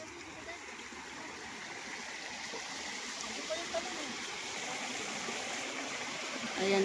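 Continuous rushing of a flowing river on a farm lot in Cavinti, Laguna, a broad steady wash of water with faint splashes throughout.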